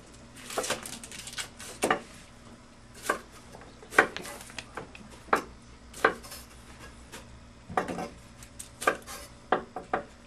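A knife chops an onion on a cutting board in a home kitchen, with about a dozen crisp, close knocks in an irregular rhythm separated by brief quiet gaps.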